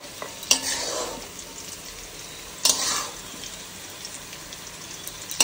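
Cashews, raisins and vegetables fry with a soft constant hiss, punctuated by three sharp stirring scrapes that set off brief louder sizzles.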